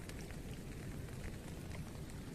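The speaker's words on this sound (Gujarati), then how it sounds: "પાણી ભરતી આવી ગઈ છે ને વરસાદ થઈ રહેલો છે" Monsoon rain falls beside a tidal creek in a coastal fishing spot, a steady soft hiss of drops on water and ground, faint and continuous with no voices.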